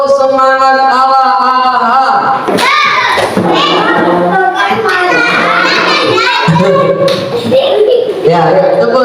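Second-grade children clap rhythmically as a group during an Indonesian primary school lesson on Asmaul Husna. The claps are loud and close, mixed with chanting voices and an adult speaking.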